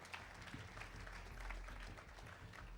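An audience applauds a company president being called up on stage at an awards ceremony for property developers, with continuous soft, fairly distant clapping and no voices.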